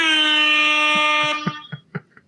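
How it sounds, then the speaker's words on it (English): A rap-style air horn sound effect blares loud and sustained with a steady harmonic tone for over a second, then cuts off as a few short bumps and clicks follow. "Go ahead and just blast that rap air horn one more time"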